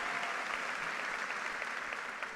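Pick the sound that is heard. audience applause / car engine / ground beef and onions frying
audience applause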